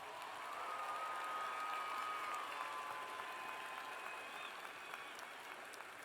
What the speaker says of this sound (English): So give those mothers a round of applause, would you please?